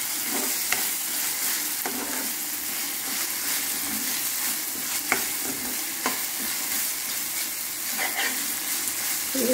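Curry stirred in a frying pan sizzles steadily in hot oil, with a spoon scraping and turning the mixture at intervals; close and continuous, no talk.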